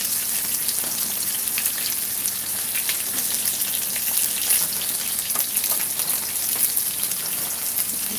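Chicken fries in a little oil on a stovetop, giving a steady, close crackling sizzle with dense popping that carries on unbroken throughout.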